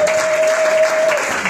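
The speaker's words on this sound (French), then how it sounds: "Nous acclamons pour lui." Congregation applauding during a Sunday church service, a brief dense burst of clapping close and loud, with a steady tone sounding beneath it.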